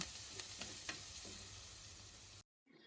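Salt and turmeric get stirred into a ridge gourd and potato curry in a hot pan, a steady close sizzle with a few soft scraping strokes of a spoon, then a brief cut to silence before the frying resumes faintly.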